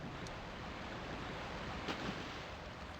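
Waterfall in the video game Tomb Raider II, a steady broadband rushing roar of falling water that stays even throughout, with no talking.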